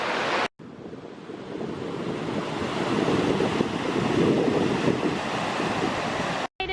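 A loud, continuous roar of rushing water from a huge waterfall in Iceland, broad and steady, with wind buffeting the microphone.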